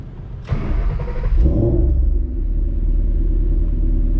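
A 2012 Ford Shelby GT500 V8 cranks and fires with a sharp burst, then settles into a deep, loud, steady rumbling idle heard up close with no talking.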